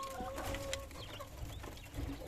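Native Bangladeshi roosters, hens and chicks cluck in a yard, scattered bird calls over a busy background with a sustained tonal whine early on and occasional louder peeps.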